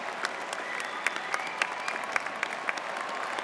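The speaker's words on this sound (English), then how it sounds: "Please stand and give them a round of applause." Polite audience applause at a Wichita State University fall commencement ceremony, many hands clapping in a large hall, fairly soft and distant, with a few sharper individual claps popping out of the steady patter.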